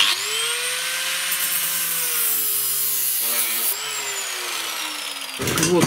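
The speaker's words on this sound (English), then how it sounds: "Now we will cut off the sleigh below to attach here something bigger." A steady mechanical whine with harmonic tones, a powered saw cutting through a wooden sleigh, continuous for several seconds before a brief clatter at the end.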